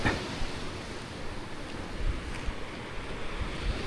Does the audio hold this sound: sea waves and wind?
yes